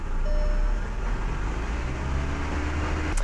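A 2003 Volkswagen Jetta up on jack stands with its drivetrain running in gear, being checked for vibration: a steady, close, loud low rumble and drone with no talk.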